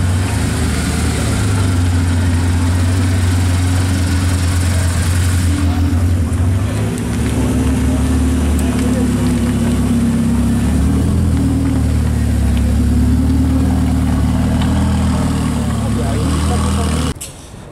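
Cars leaving a Cars & Coffee meet on a small road in Luxembourg produce a steady low engine rumble and idling drone, with a person talking over it throughout.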